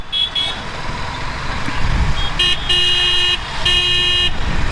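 A roadside traffic jam with a line of cars rumbles close by, broken by several sharp car horn blasts, some held for about a second.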